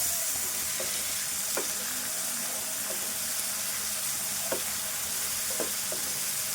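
Ginger garlic paste frying in a pot for chicken masala soup gives a steady, broad sizzle throughout, with a few brief scraping clicks from stirring. Close and moderately loud, with no talking.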